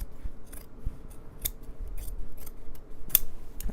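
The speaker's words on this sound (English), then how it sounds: "we need to trim that down quite a bit because that seam allowance or that selvage" Scissors snip through the wide selvage of sewing fabric, trimming back a large seam allowance in a quiet room. Several separate crisp cuts arrive at an irregular pace, close up and clear.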